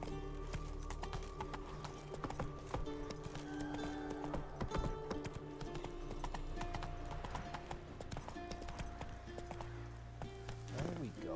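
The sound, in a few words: horse Roach galloping in video game The Witcher 3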